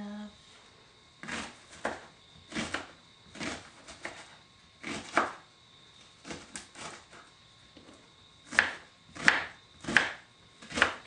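A knife chops half an onion on a board in a home kitchen, sharp close taps landing in uneven bursts, then a quicker run of louder strokes near the end.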